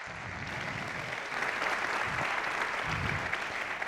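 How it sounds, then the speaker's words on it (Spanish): Sustained applause from a congress audience for panel speakers at a national lawyers' conference, a dense, steady wash of many hands that swells slightly midway and continues without talk. "Los damos a todos un fuerte aplauso."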